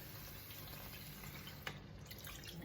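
Two cups of chicken broth pour steadily into a cooking pot for chicken afritada, a soft continuous liquid splashing and trickling that holds an even level throughout, with a small clink near the middle.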